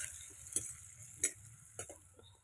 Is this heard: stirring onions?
yes